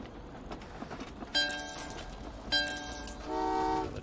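Trains rolling along tracks in the Train Valley 2 game, with two short bright horn toots in succession and a longer, steadier horn blast near the end, all over a low rumbling background.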